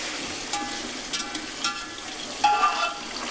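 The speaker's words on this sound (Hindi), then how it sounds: "उसके बाद अब इसको हमने डालना है गर्म ऑयल में।" Chicken pieces frying in hot oil in a home kitchen, a steady close crackling sizzle with brief louder spits and pops, no talking.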